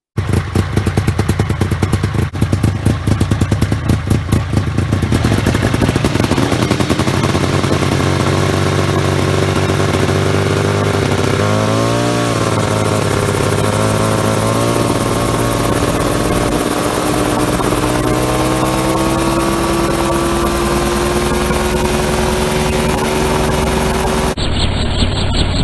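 A homemade helicopter's engine and rotor running loud and close, a steady roaring drone whose pitch climbs gradually as the RPM increases, with a brief wobble midway and a sudden cut near the end.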